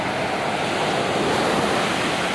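Ocean surf rolling onto Batu Bengkung Beach on the southern coast of Malang, East Java, Indonesia, heard as a steady, loud, broadband roar of breaking waves with no voices.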